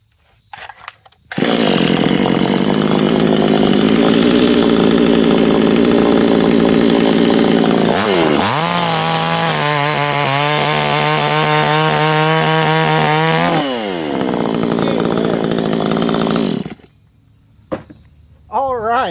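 Vevor 58cc gas chainsaw cutting through wood, a loud droning engine that rises into a strained, revving cut lasting several seconds before easing off, with brief idle gaps at the start and end.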